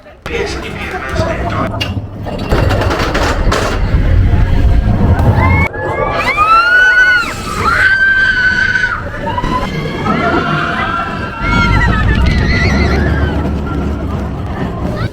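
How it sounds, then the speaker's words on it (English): Riders scream and cheer loudly aboard the Expedition Everest steel roller coaster, with rushing wind noise and bursts of shrieking voices rising and falling over a roaring, continuous ride rumble. "It is a steel roller coaster."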